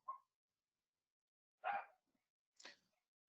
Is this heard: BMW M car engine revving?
no